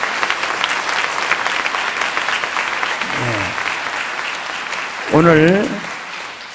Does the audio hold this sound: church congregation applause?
yes